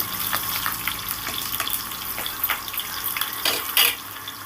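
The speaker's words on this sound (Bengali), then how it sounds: "রসুনটাকে সুন্দর করে একটু লাল লাল করে ভেজে নেব" Garlic and dried red chillies frying in oil for a kalmi greens stir-fry give a steady broadband sizzle with scattered crackles and a few louder spatters near the end, close and alone.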